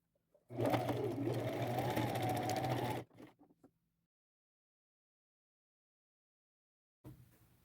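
A sewing machine runs a zigzag stitch attaching lace to a handmade crossbody bag, one continuous whirring burst of about two and a half seconds, followed by a few faint clicks and then near silence.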